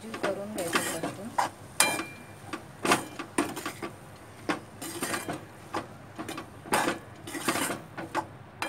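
A spoon scrapes through capsicum bhaji in a pan, repeated strokes in an uneven rhythm, close and fairly loud, with light sizzling between the strokes.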